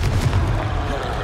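A Confringo spell explodes in the video game Hogwarts Legacy, a single loud, close, booming blast that rumbles on briefly.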